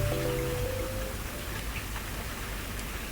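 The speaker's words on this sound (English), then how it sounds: "it started really raining just as I said that" Steady rain hissing outdoors, a continuous wash of noise with scattered drops, with a faint tonal hum early on.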